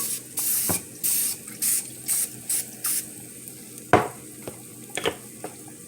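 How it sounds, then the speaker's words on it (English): Cooking spray hisses onto a baking pan in a string of short, even bursts, about eight quick sprays in a row, close and crisp, followed by a few clattering knocks of the can and pan. "so I'm gonna spray my pan"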